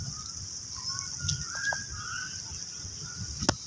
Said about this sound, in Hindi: बतखें पानी में मुंह डाल रही हैं।